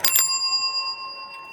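A bicycle bell rings sharply once, close by, its bright metallic tone ringing on and fading over the next second.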